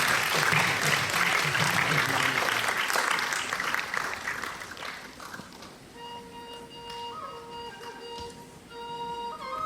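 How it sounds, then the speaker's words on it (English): Audience at a silver jubilee celebration applauds volunteers being welcomed, a dense burst of clapping that gradually thins and fades as music with sustained tones rises underneath. "These are the volunteers that carry the organization, so let's welcome them. Big round of applause."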